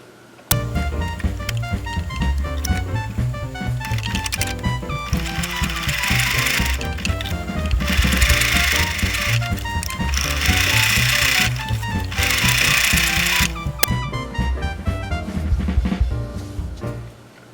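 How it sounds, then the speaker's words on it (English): A sewing machine runs continuously, stitching decorative stitches on top of a fabric sleeve for a hot drink cup. The close, rapid mechanical whir and clatter builds in a few louder bursts before stopping near the end. "I do want to just add some decorative stitches on top"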